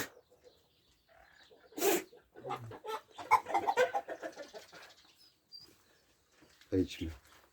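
A rooster crows nearby in a garden hen aviary among short clucks and bird calls, with brief bursts of sound and quiet gaps between them.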